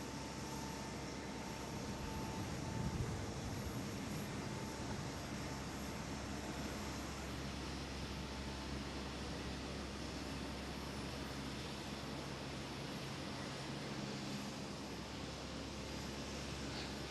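A Norse Boeing 787 Dreamliner, flying for IndiGo from Mumbai, gives a steady, broad jet roar at Amsterdam Schiphol airport, heard from a distance and holding level throughout.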